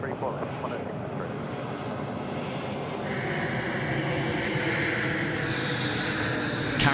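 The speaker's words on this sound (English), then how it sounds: "Qantas 63, runway 34 left, it's clear for takeoff" A Qantas airliner takes off from runway 34 left at Sydney Airport, its jet engines roaring steadily and building in power from the distance. A voice speaks over the noise.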